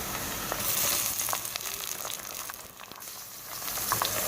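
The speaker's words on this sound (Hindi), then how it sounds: "बस प्याज को इतना ही हमने फ्राई करना है।" Chopped onions frying in hot oil for beef haleem, a steady crackling sizzle with occasional sharper pops and faint stirring scrapes, close and continuous with no talk.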